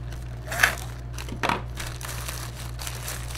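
A small plastic bag is opened with two sharp crinkling bursts, close and fairly loud over a steady low electrical hum, followed by softer rustling.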